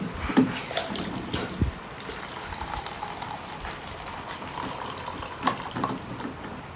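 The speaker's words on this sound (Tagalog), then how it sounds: "Dagdagan natin ng tubig" Water poured into a mixture, a soft trickling and splashing with a few small clinks, fairly quiet and close with no talking.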